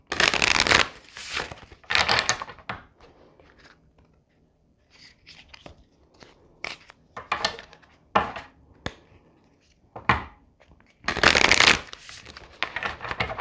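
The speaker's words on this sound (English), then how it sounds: "These cards are a little bit loud when we shuffle them" Loud bursts of playing cards being shuffled, with riffling flurries at the start, middle and end and quieter card handling in between.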